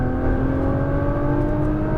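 Car engine accelerating hard on a race track, loud and close, a steady droning roar with rising pitch and no pauses over the whole stretch.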